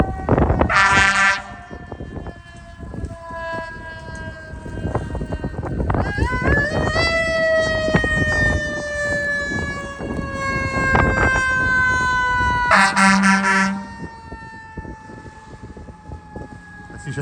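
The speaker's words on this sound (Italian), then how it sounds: "Ecco, stanno arrivando anche i pompieri perché c'è stato un piccolo incidente lì." A fire engine arriving at a small accident during a snowstorm in Toronto, sounding a loud wailing siren that sweeps up and holds for several seconds, with short bursts of air horn near the start and end.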